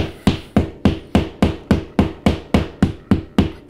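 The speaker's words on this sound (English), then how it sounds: "I can hammer it in until it's a dent that needs to be filled." A hammer strikes a drywall screw into a ceiling a dozen times in a steady, even rhythm, each blow sharp and close with a short ringing decay.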